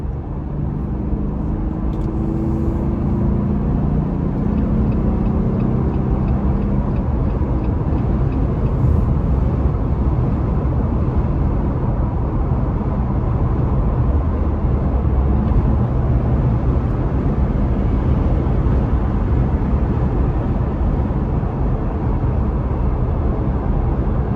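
A Jeep Gladiator on new tires cruises along a freeway at about 65 mph, a steady, loud in-cabin rumble of road and tire noise with a low engine drone, continuous and without speech.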